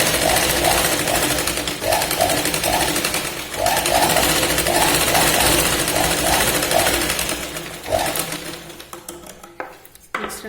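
A sewing machine runs in steady continuous bursts while stitching tucks on a boat-neck blouse, loud and close, with a faint repeated chirping above it, then slows and stops near the end.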